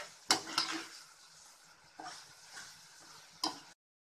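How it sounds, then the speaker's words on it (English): Masala paste with mushrooms stirred in a pan, a soft sizzle broken by a few sharp spoon scrapes and clinks against the metal, close and fairly quiet, with no talking. "So mix it for some time."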